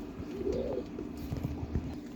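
Pigeon cooing indoors near a sick pigeon chick, a soft low warbling coo rising briefly then fading, with faint background rustle and no talk.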